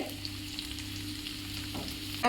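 Onions, garlic and pepper fry in sesame oil in a kadai for fish curry, a steady close sizzle with a brief stir or clatter near the end.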